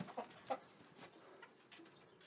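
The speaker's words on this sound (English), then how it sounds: "the chickens are starting to go to bed." Egg chickens settling in a coop for the night on an off-grid food-forest homestead in Portugal, a few soft, faint clucks and short calls scattered over a quiet background.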